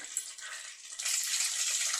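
Mustard seeds splutter in hot oil mixed with water in a cooking pan, a close, steady sizzling hiss that grows louder and denser after about a second, with no talking.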